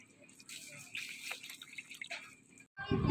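Water is poured into curry in a pan, a close, soft trickle and splash for a few seconds, then a louder sizzle and bubbling as it hits the hot pan.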